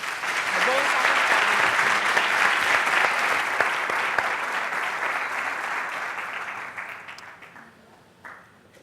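An audience at a design conference bursts into sustained applause, a dense, loud wash of clapping that holds for several seconds before thinning and fading out at the end.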